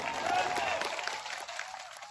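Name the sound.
crowd applauding at a political rally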